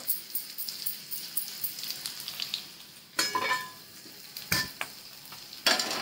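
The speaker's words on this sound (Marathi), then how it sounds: "बटाटे चांगले तळून, आता लालसर झाले, काढून घेते आता मी" Potatoes fry in hot oil in a pan with a soft, steady sizzle, broken by sharp clattering scrapes and stirs every few seconds, close and fairly quiet.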